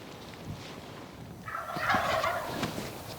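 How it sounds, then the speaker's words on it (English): Rio wild turkeys gobble from a stand of tamaracks, one rolling, warbling gobble rising out of quiet outdoor background, moderately distant and fairly faint. "They just gobbled right here, right inside those tamaracks."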